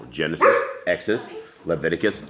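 Several dogs bark and yip indoors, loud and close, overlapping a voice as he speaks.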